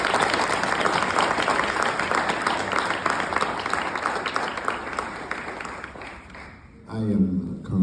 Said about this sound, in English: Please join me in giving a round of applause for Lieutenant Colonel Lazelle Free.